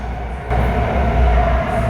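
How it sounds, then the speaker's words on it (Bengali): A Wuhan Metro train rumbles into a station steadily with a low, heavy drone and a faint tonal hum, growing slightly louder partway through as it draws in. "এই কাঙ্ক্ষিত মেট্রো এসে গেছে"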